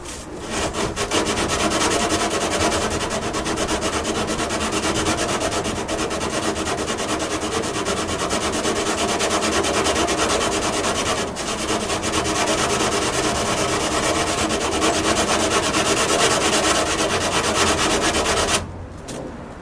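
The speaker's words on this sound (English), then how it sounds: "Tube of sandpaper. It works quite well because it, as it unrolls, it sort of presses out" Steady, continuous rasping of a rolled tube of sandpaper sanding a part, close and loud, running without pause for most of the stretch before cutting off near the end.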